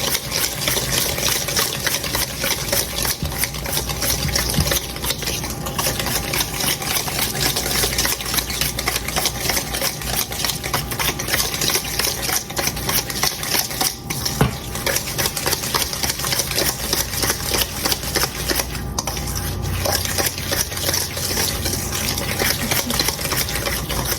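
Banana walnut muffin batter being stirred by hand in a bowl, a steady continuous scraping and sloshing that runs evenly throughout at close range with no talk.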